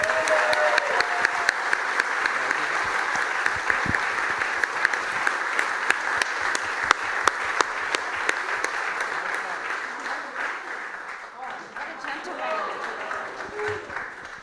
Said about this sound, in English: please also give a round of applause to our wonderful moderator of this session.